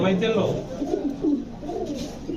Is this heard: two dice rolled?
no